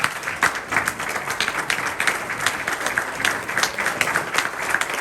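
Audience applause at a club meeting after a gift card is presented to Maria, steady dense clapping from a room full of people, sustained and even throughout with no talking.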